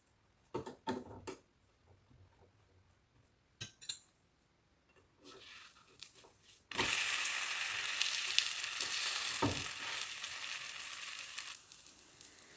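Egg and onion pancake sizzling in hot oil in a pan after being flipped: a loud, steady frying hiss that swells and holds, preceded by a few sharp utensil clinks and scrapes against the pan.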